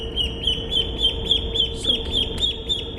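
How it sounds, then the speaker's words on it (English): Baby ducks peep in rapid, evenly repeated high chirps, close and steady over a low background hum, with a brief word spoken. "we love baby ducks."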